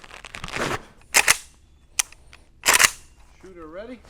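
Several sharp, loud rifle shots from a Palmetto State Armory AK-105 ring out at a range, spaced irregularly as single and doubled reports, with a brief voice and a warbling electronic tone between them.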